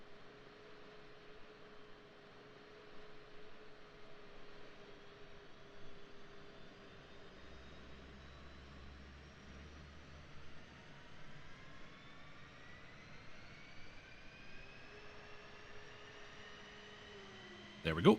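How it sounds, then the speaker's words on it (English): An F-15E jet engine spools up during a pilot startup in the DCS flight simulator, a low hum with rising whine tones climbing steadily over time, fairly quiet and even, ending in a brief louder burst. "after a short delay, the engine will be spun up and fuel will be introduced"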